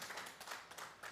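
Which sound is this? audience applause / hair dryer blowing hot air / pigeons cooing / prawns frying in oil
audience applause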